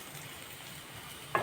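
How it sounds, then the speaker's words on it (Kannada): Chicken fries in a pan for biryani, a soft steady sizzle with a louder stirring scrape near the end. No one speaks. "ಚೂರು ಫ್ರೈ ಆರುಂಡು"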